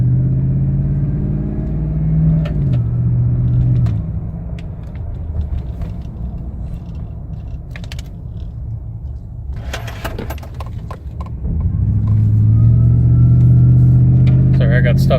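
A hot-rodded 2018 Toyota Tundra pickup with over 600 horsepower rumbles deeply through a steady drive, its engine note dipping mid-way before swelling into a loud, sustained acceleration near the end, heard close from inside the cab.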